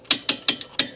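Boat trailer winch ratcheting as a strap is cranked tight: four sharp, close metallic clicks in a steady rhythm, loud and alone.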